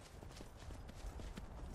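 Horse hooves clip-clopping in the video game Skyrim, a faint steady trotting rhythm of soft hoof beats over low background noise, with no talk.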